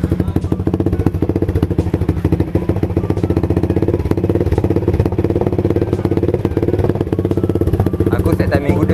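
A cold motorcycle engine runs after a timing adjustment, idling with a fast, even, loud putter and steady mechanical clatter throughout.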